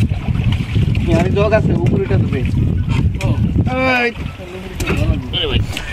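Fishing boat out with hilsa fishermen on a river in Bhola, engine and water noise droning steadily with wind buffeting the microphone, while people's voices talk over it.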